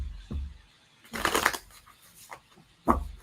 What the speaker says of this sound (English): Okay, I'm starting to shuffle.